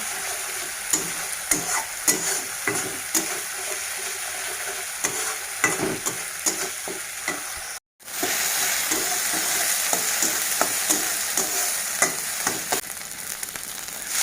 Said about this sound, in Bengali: তারপর আমি ভালো করে কষিয়ে নেব।